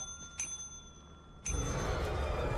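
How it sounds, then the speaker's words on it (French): A counter bell rung in the video game Lethal Company sounds twice, a bright metallic ding followed by a second ring that opens into a louder, sustained hum of background noise. "vous faites sonner la cloche une fois ou 2"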